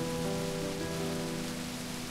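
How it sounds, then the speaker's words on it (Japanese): Rain beating against window glass, heard from inside a room in a visual novel game, a soft, steady patter under a faint background tone, with no voices. "雨がガラスを叩く音が部屋の中でさえもはっきりとわかる。"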